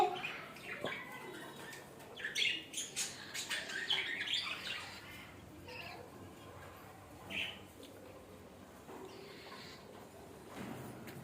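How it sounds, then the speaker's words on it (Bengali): Pet budgerigars in a flock of about fifty pairs chirp in short, scattered bursts, faint and a little distant, with bright twittering clustered early on and sparser calls later. "সেগুলো আমাদের বাসডিকা পাখি আমাদের কাছে প্রায় পঞ্চাশ জোড়ার মতো বাসডিকা পাখি আছে"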